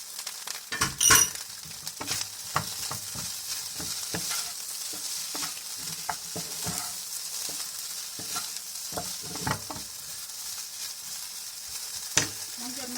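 Pork fried rice stir-fried in a hot pan, a steady sizzle under repeated scraping and stirring strokes with occasional clinks of utensil on metal, close and clear, no talking.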